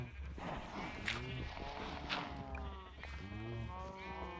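Cattle lowing and livestock bleats from a Minecraft farm of bred cows, several overlapping drawn-out calls repeating through the clip over a steady low game background.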